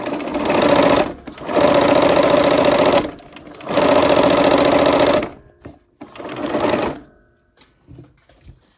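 A sewing machine stitches a seam on a Peppermint Frost quilt block, loud and close, in three long runs of steady whirring separated by brief pauses, followed by a shorter final burst and quiet handling.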